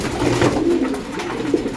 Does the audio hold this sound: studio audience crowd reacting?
no